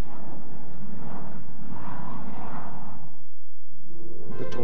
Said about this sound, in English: British strike fighter is the Tornado. The Tornado was designed from the outset as a multi-purpose aircraft.